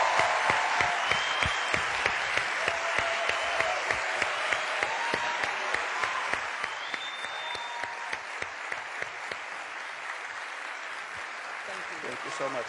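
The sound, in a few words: audience applause welcoming Martin Scorsese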